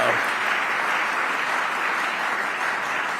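Applause at a congressional briefing on Iran, a steady, fairly loud spread of clapping from the room that holds evenly and eases slightly at the end.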